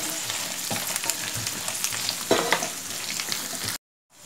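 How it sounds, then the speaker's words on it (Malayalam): Chopped okra frying in hot oil for shahi bhindi gives a steady, dense sizzle throughout, with occasional stirring scrapes, close and fairly loud, before it cuts to silence at the end. "അതിലേക്ക് നമ്മൾ അരിഞ്ഞു വെച്ചിരിക്കുന്ന വെണ്ടയ്ക്ക നമ്മൾ ഇട്ടിട്ടൊന്ന് ഫ്രൈ ചെയ്തെടുക്കണം."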